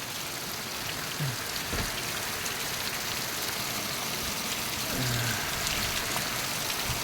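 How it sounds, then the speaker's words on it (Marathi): Rain falls heavily and steadily, a loud unbroken hiss close by, with a couple of faint low hums from something passing in the distance and no voices. "आज खरा पाऊस जाणवायला लागला पडतोय आणि छान असा पडतोय"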